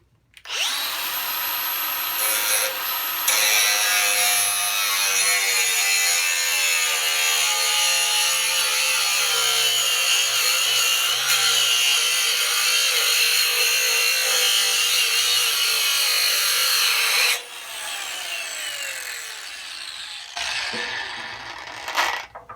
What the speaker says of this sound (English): It's a grinder disc here.